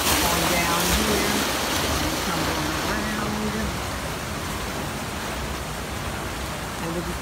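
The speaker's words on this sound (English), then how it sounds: "this is where the water drops. The water drops off." Water dropping off a landscaped waterfall at a resort makes a steady, close rushing hiss, with a person talking faintly underneath.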